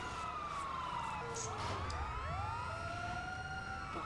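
A wailing ambulance siren sweeps up and down in the Grand Theft Auto video game while a player flees on a moped, its tone steady and fairly loud over constant engine and game noise.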